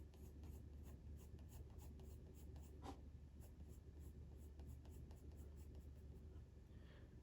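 Graphite pencil scratches across paper in quick, repeated hatching strokes, a soft rhythmic scraping close to the ear with a faint low hum behind it.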